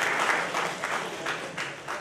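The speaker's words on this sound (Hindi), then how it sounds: "जोरदार ताली आप इनके लिए बजाएं।" Steady, dense clapping from an audience at a Hindi-language public event, a sustained crowd applause that swells and dips slightly, with no talking over it.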